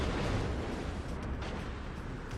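Battleship guns firing in a naval combat game, a dense low rumbling roar of heavy cannon blasts and their long reverberating aftermath, loud and continuous for a couple of seconds.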